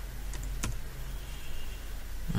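Sharp, isolated mouse clicks in pipe-sizing calculation software for a sanitary plumbing design, two quick clicks close together early on, then quiet room tone.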